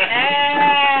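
A single sheep bleats in one sustained, wavering call lasting about a second, close and loud with no other sounds around it.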